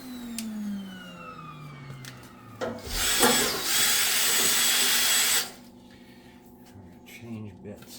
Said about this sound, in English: I gotta put the drill bit on reverse.